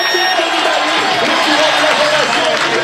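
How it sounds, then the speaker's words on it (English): Roadside crowd at a Tour de France time trial start cheers and shouts loudly and steadily, a dense roar of voices and whoops with no gaps. "The crowd know their sport, Paul."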